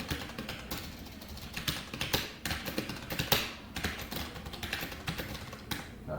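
Rapid keyboard typing on a computer keyboard while code is entered, irregular clusters of close key taps running steadily throughout with brief pauses, no voices.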